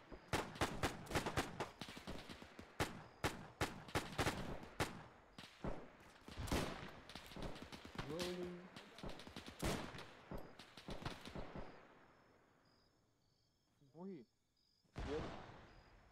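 Sharp gunfire bursts and rifle volleys in the military video game Arma 3, dense and loud at first, thinning out toward the end with scattered shots and a final burst; voices call out over the shooting.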